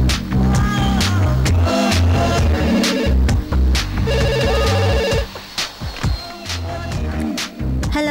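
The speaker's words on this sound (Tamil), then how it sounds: "இந்தா உனக்கு தான் ஃபோன்." A telephone rings indoors in a Tamil film scene, repeated trilling bursts standing out loudly over background music and a brief hum.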